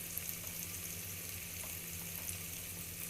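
Tomatoes and spices sizzling in ghee in a pan while cooking turai sabji, a steady soft frying hiss with faint crackles and no talk.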